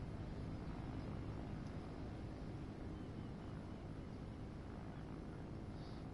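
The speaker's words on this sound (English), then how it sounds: "here they are again, with 1 Spitfire now let loose. We have the aircraft here" A Spitfire flies past at the Cambridge airshow, its engine a faint, steady, distant drone that holds evenly throughout with no voices.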